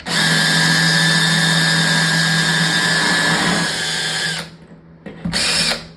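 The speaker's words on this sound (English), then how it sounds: "These holes will be very easy to drill." A power drill bores through soft wall tile for a grab bar, running loud and steady for over four seconds, cutting out briefly, then spinning up again for a short burst.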